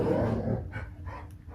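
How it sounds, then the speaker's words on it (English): Several household dogs bark and whimper indoors, with a burst of loud barking followed by scattered yelps and whines that taper off; no talking. "Interrupted by dogs."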